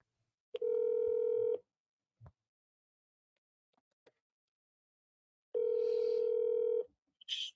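Two long phone dial tones sound about four seconds apart, each a steady electronic tone with harmonics, with a few small clicks and keypad blips between them as a call is placed.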